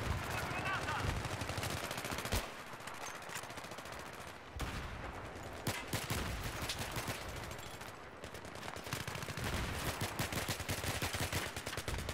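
Rapid bursts of automatic gunfire in the video game Battlefield 3 crackle almost continuously, with brief pauses between volleys, loud and dense throughout.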